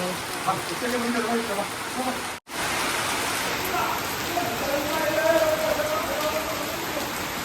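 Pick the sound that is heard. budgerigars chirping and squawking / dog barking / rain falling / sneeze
rain falling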